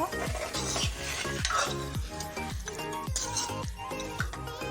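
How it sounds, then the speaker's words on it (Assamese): A spoon stirs goat meat curry in a pot just after water is added, making steady rhythmic scraping and sloshing strokes with light metallic clinks, close up and without talk. "পানী দি ভালকৈ লৰাই ল'ব।"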